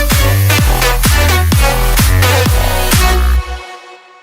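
A synth melody plays over pounding kick drums in a dance track, ending on a single off-grid glide note before the music cuts away to a fading tail.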